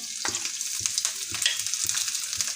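Garlic and grated ginger frying in hot oil in a home kitchen, giving a steady close sizzle with light spoon scrapes recurring about every half second.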